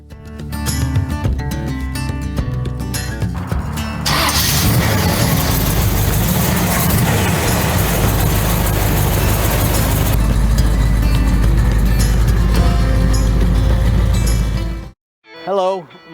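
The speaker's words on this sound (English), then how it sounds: "The engine is a GM 350 crate motor. It has an Edelbrock carburetor on it." A hot rod's GM 350 crate engine with an Edelbrock carburetor, rated at 290 horsepower, runs at a car show in a loud, steady, throaty roar that holds for most of the clip before cutting off abruptly, with voices mixed in.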